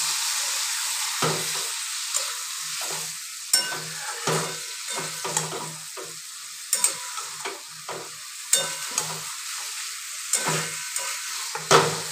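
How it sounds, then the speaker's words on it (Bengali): Soybean, egg and potato curry with spices and a splash of water sautés in a pan, a close, busy sizzle broken by frequent scraping stirs and clatter of the spatula. "সামান্য একটু জল দিয়ে কষিয়ে নিই।"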